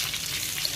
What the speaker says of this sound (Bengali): প্রায় আধা ঘন্টা ধরে এই মাছটা ভাজছি।